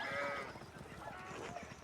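Sheep in the medieval game Pentiment bleat faintly in a short, low-level stretch, with a few overlapping calls against quiet ambience.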